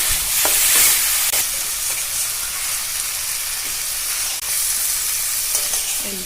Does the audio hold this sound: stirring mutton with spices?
yes